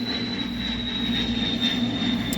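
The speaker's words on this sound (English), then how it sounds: "the jet's going over" A jet aircraft passes overhead as a steady, broad roar with a constant high whine, heard alone and fairly loud for the whole short stretch.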